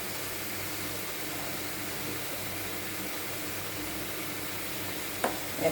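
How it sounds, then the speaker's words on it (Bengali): A cabbage and coconut paturi mixture with turmeric fries in a pan, giving a steady, close hiss of sizzling throughout, with a couple of faint knocks near the end. "আর একটু ভাজা ভাজা করব।"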